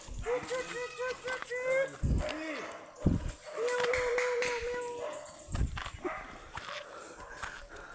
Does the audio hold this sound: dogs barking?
yes